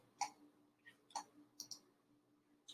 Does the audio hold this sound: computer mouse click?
yes